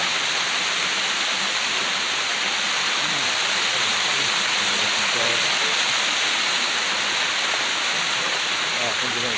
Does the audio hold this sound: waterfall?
yes